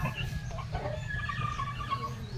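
Roosters and fighting cocks on a rural farm at early morning give clucks and calls over a steady low rumble; a faint crow may sit among the calls, sounding fairly close and continuous.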